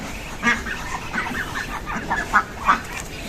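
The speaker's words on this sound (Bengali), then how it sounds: "ওই দেখেন যে হাঁসগুলো খাবার খাওয়ার জন্য কি অবস্থা করতেছে ওইদিকে" Crested ducks clamouring for food at feeding time, a nearby flock quacking in repeated loud bursts over a busy outdoor background.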